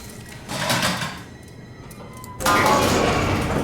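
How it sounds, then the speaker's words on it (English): A sealed door grinds open in the SOMA video game, with a mechanical swell about half a second in, a quieter lull, then a loud sustained rush of hissing and rumbling that continues to the end. "this door's sealed, so let's open it"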